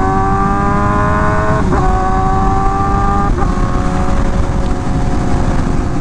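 A Honda Fireblade sport motorcycle engine revving hard up close, a loud sustained high-pitched roar with two brief dips between revs, alone with no talk.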